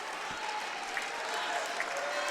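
A women's college basketball crowd in a gym applauds and cheers for a player, a steady wash of clapping with scattered shouts at a moderate distance.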